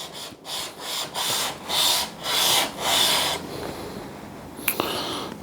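The back of a chisel from a budget set is flattened to remove machine marks, five or six rhythmic rasping strokes across an abrasive, close and fairly loud, ending with a couple of light clicks.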